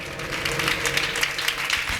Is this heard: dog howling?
no